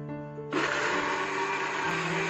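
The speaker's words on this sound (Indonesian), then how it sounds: "Ini saya blender hingga halus." A kitchen blender whirs into action grinding shallots, garlic, candlenut, turmeric and ginger with a little water, starting after a brief hum with a loud steady high-pitched roar that holds to the end, no talking.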